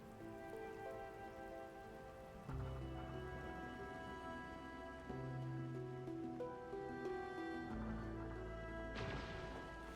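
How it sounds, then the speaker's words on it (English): Heavy rain pours steadily in Arknights Endfield, a constant dense wash of drops beneath sustained layered game music. "It's raining harder. I can't hear anything except for the rain."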